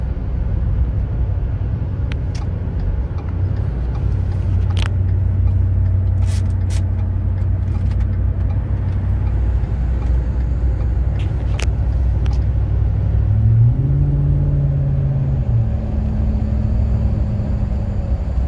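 A 2010 Ford F-150 Lariat pickup cruising at about 60, heard from inside the cab as a steady low engine and road drone, with a brief rise in engine pitch near the end and scattered faint clicks.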